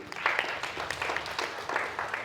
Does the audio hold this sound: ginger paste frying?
no